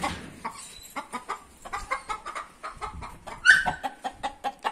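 An Asil rooster clucks in short, repeated bursts at close range, with one sharper, louder call partway through, over faint farmyard background.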